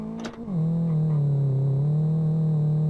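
A car engine in the Live for Speed racing game starts with a brief cranking catch, then settles into a loud, steady low drone that rises slightly in pitch.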